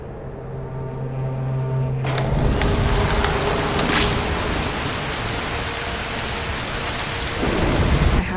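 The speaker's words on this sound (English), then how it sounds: "A storm could help" A thunderstorm rolls through the video game Broken Pieces, with loud, dense rain hissing steadily throughout and a thunderclap cracking in early, followed by a continuous rumbling roar.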